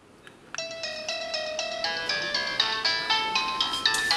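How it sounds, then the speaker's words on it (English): Doorbell ringtone from a home video door phone, a melodic electronic chime tune playing through alone at moderate volume after a faint click. "If somebody will press the doorbell"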